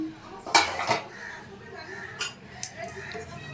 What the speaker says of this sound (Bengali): ঢাকাটা তুলে নিচ্ছি